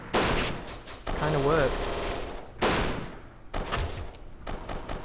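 Gunfire in the shooter game Kane and Lynch 2, several loud bursts of shots broken by short gaps, with game sounds between them and a brief spoken remark.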